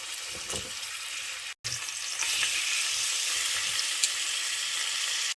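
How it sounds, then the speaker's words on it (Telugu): Marinated chicken breast fillet fries in hot oil in a pan, a steady close sizzle broken by a brief cutout near the start, with no talking. "ప్యాన్లో ఆయిల్ వేడైంది ఇప్పుడు మ్యారినేట్ చేసి పెట్టిన బ్రెస్ట్ ఫిల్లెట్ని వేసుకొని ఫ్రై చేసుకోవాలి"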